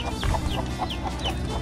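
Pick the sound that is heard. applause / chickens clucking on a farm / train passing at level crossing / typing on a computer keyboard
chickens clucking on a farm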